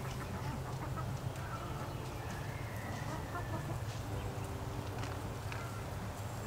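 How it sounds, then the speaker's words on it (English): A backyard flock of chickens clucks in a low, continuous murmur, faint and somewhat distant, with no talking over it. "They're chickens."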